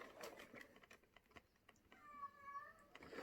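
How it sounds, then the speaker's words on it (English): A pet cat meows faintly in the background of a quiet room, a short drawn-out call near the end among soft handling noises. "You can hear my cat in the background."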